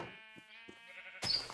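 A sheep from the Genetic Animals mod bleats in a farming video game, one long wavering harmonic cry with a few soft clicks beneath, followed by a burst of noisy rustle at the end.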